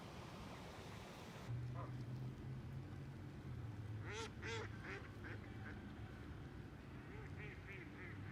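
Several ducks quack in short bursts over a steady outdoor rumble, with a few scattered calls continuing near the end.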